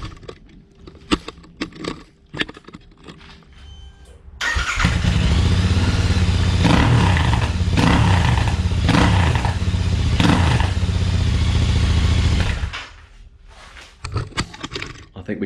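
A Royal Enfield Interceptor 650 motorcycle fitted with new exhaust pipes starts and idles loud and close for about eight seconds, its deep rumble rising in a few revs before cutting off, with clatter before and after.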